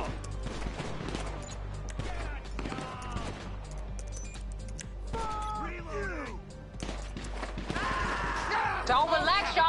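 Gunfire in the GTA 5 Online heist, with scattered shots crackling through a dense, busy mix of game effects and talk, ending in a louder, harsher flurry of action.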